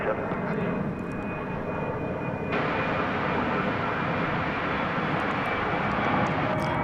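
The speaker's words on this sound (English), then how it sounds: "What you see there is American Flight 1062 arriving from Austin." An American Airlines Airbus A319 comes in to land at Dallas-Fort Worth International Airport at night, about a mile off, its steady broadband engine roar holding throughout at moderate volume.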